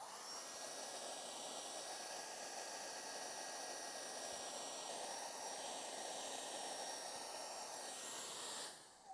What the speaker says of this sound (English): we're going to get out the old hairdryer and a tick now and just give them the quick blast